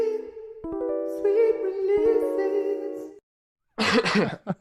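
A harmonic, tonal vocal sound lasts about three seconds, then after a short silence a burst of harsh, broadband coughing closes the clip.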